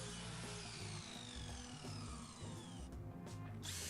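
A drill bores pilot holes through pallet-wood floor boards for ring nails, its motor whining steadily with grinding, rhythmic chatter close up before it briefly drops off near the end and starts again.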